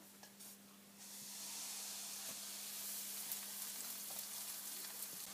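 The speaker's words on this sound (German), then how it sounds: "Danach geben wir eine Kelle unseres fertigen Teiges in die Pfanne" Steady sizzling hiss of pancake batter frying in a hot pan, starting quieter and settling into a constant crackle after a second.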